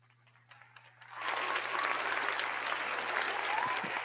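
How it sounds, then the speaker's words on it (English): A studio audience on a sports podcast breaks into warm hand clapping to welcome a guest, starting abruptly after a second of quiet and holding as steady, dense applause to the end. "why don't everyone give Adam a hand clap and just make him feel welcome here on the show."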